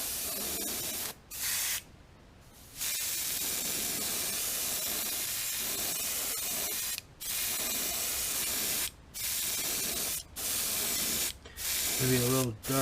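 An airbrush sprays a thin coat of paint over gold on a smallmouth bass fishing lure, a steady close hiss in long bursts broken by several brief pauses.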